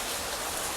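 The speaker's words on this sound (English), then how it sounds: "Sarah, sitting outside in the rain." Rain pours outdoors as a steady, dense hiss of drops on surfaces, close and even throughout a very short stretch with no voices.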